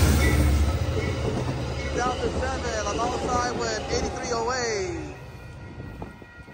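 An Amtrak Capital Corridor passenger train rumbles past up close at 98th Avenue in Oakland, California, a loud rolling roar with wheel clatter, fading away toward the end.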